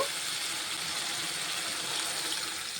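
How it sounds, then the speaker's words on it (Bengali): Water poured into a fish curry masala in the pan: a steady, close hiss of pouring liquid that runs evenly for a few seconds with no talking. "এখন আমি জল অ্যাড করব।"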